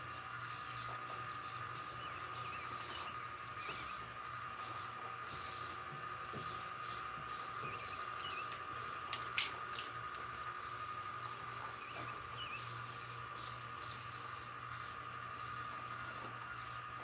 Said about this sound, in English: I certainly would break out a couple cans of spray paint.